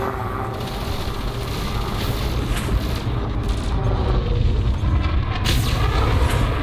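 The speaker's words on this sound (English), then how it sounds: "Why is he shooting plasma accelerators at me?" Plasma accelerator fire striking a ship in Elite Dangerous: heavy booming impacts and rumbling blasts layered over a continuous roar, growing louder toward the end, with no talk.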